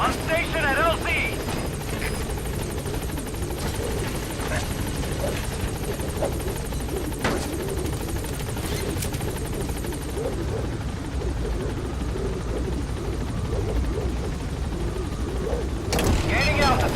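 The Pequod helicopter in a video game hovers at a landing zone, a steady rotor thump and engine drone running the whole time under radio-style voices talking, with a few scattered bursts of gunfire.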